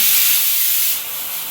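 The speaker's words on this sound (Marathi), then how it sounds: "कुकर लावलेला आहे सो कुकरची शिट्टी वाजलेली आहे" A loud, steady hiss of steam escaping under pressure from a pressure cooker whistle, cooking potatoes, continuous throughout and easing slightly partway through.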